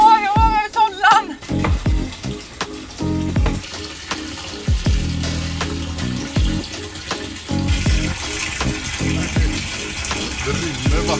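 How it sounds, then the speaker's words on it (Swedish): Water runs and splashes steadily under a car, close by, with voices talking over it and occasional knocks. "Det rinner vatten under bilen nu."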